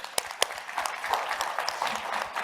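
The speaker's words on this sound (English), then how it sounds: "Let's give Steve a round of applause, too." Audience applause at an industry and funders panel event, with a few sharp individual claps standing out first before settling into a steady, moderate patter of clapping from a modest crowd.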